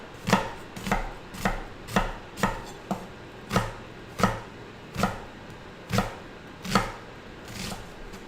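A chef's knife chops food on a cutting board in a steady series of about a dozen sharp, evenly spaced strikes, close and clear with no talking.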